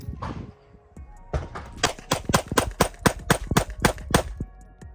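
Echelon 4.0c pistol emptying its last rounds: about a dozen sharp, loud shots in a fast, steady rhythm, following a brief earlier burst of noise, each report crisp and close.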